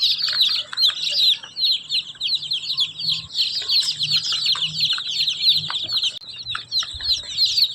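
Many small native Siruvidai chicken chicks, about 110, cheep constantly in high, overlapping peeps, a dense chorus close by with faint low thumps underneath.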